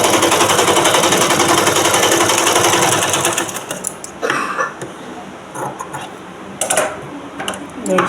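A sewing machine stitches blouse fabric with a loud, steady run for about three seconds, then stops and gives way to scattered short bursts and handling noises.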